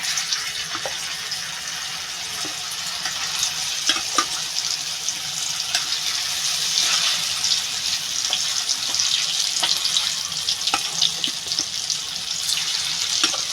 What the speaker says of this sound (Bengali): সব কটা একবারেই ভেজে নেবো এসে যাবে কড়াইতে